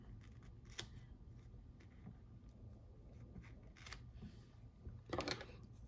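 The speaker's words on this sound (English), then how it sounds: "Fiskar brand scissors from Hobby Lobby to cut my synthetics." A few quiet, sharp snips of Fiskars scissors cutting synthetic fly-tying fibers, spaced apart, with a louder cluster of cuts near the end, close and otherwise quiet.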